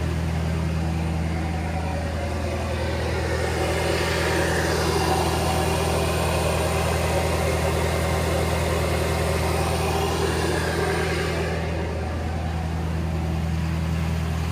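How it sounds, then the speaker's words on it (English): Ford 6.7 diesel engine heard from the exhaust at high idle around 1200 RPM, a loud, steady low drone with a constant hum and no talking. "I'll get you back around to the exhaust so you can hear what it sounds like."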